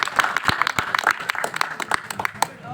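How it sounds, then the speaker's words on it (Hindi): Audience applause from a gathered crowd at a talk, many hands clapping in a steady dense patter with sharper individual claps, fairly close, fading out at the end. "आप सबके लिए, आप अपने लिए तालियां बजा करके अपना स्वागत कीजिए"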